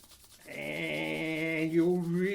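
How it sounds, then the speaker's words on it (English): Palms rubbed briskly together to warm the hands before flamenco guitar playing, a steady close dry swishing friction that starts after a brief quiet moment and continues without pause, with no talking. "rub your hands"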